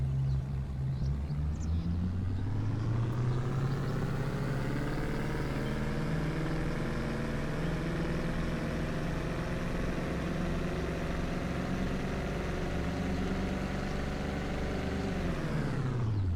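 A tuned vehicle engine in Farming Simulator 25 is held at full throttle on a dyno, a loud, steady roaring rumble that climbs in pitch early, holds for a long stretch, then drops off abruptly at the end.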